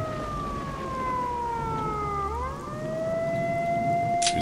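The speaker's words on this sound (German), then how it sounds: "Boah, diese Sirene." A loud in-game air-raid siren from the shooter Stalker: Shadow of Chernobyl wails continuously, its long gliding tones falling and then rising again over a dull rumbling ambient bed, with no talk.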